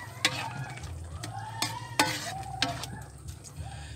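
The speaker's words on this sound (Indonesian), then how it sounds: "Nah, ini sendok gede ya. Sendok sayur aduk" A ladle stirs chicken soup in a pot, giving several sharp metallic clinks and scrapes against a soft background simmer, close up and without talk.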